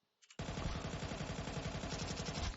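Galil rifle sprayed in sustained automatic bursts in the video game Counter-Strike 2, a few quick shots leading into a loud, rapid, unbroken stream of gunfire.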